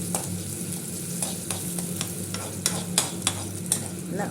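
Onions fry in a pan for tempering, a steady sizzle running throughout while a spoon stirs and scrapes against the pan in irregular clicks and taps.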